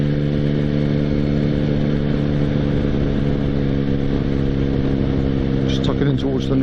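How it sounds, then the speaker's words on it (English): A motorcycle engine drones steadily and loudly while speeding downhill with the throttle eased off, a constant hum running throughout, with a speaking voice over it. "I'm just going to wind the throttle down a little bit, picking up speed on the down run."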